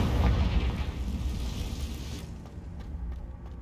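A Confringo fire spell blasting in Hogwarts Legacy: a heavy, rumbling explosion that bursts loudly at once, rolls on for a couple of seconds, then drops off into a quieter fading tail.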